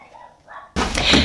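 A dog barks loudly and suddenly at close range, a short burst of sharp barks cutting in after a quiet stretch of faint room sound.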